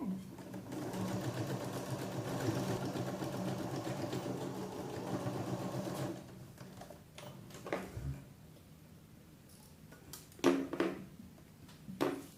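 A sewing machine stitches a 1.5 cm seam on a little girl's dress, a steady mechanical whirr for several seconds that then stops, followed by quieter handling noises and a few clicks.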